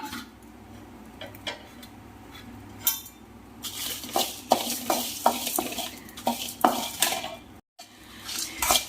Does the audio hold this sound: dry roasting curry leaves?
yes